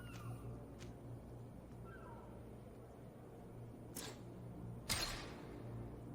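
A pet cat gives a few soft, faint meows in a quiet room, with a couple of brief swishing bursts near the end.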